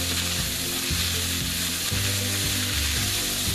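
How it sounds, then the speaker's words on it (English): Garlic and vegetables sautéing in a pan for sloppy joes, a steady close sizzle and crackle running the whole time with soft stirring scrapes and no talking. "just saute this for a couple, 3 minutes until the vegetables get soft"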